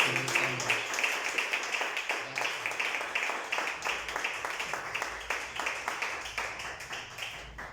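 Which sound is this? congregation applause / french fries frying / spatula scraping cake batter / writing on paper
congregation applause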